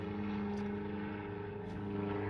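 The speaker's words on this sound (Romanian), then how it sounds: "Stai să treacă avionul." Propeller airplane droning overhead in a steady, even hum with strong low tonal harmonics, holding at constant loudness throughout without voices.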